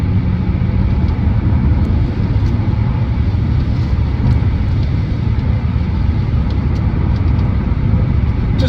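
A BMW Z4 E89 sDrive 2.3i straight-six with a six-speed manual running on the road, a loud steady engine drone with road roar throughout, no speech.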